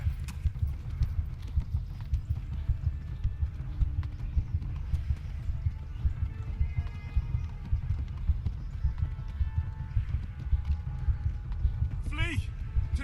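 Horse hooves clip-clop at a steady, unhurried riding pace in the medieval video game Kingdom Come: Deliverance, a continuous close rhythm running throughout, with a brief high chirp near the end.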